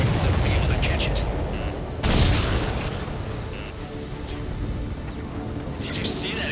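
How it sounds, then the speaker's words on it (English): In the Ace Combat 7 flight game, an explosion booms out midway with a sudden broadband burst over a continuous loud jet roar, followed by fainter crackles. "Did you see that explosion?"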